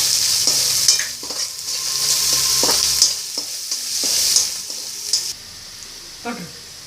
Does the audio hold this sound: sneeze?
no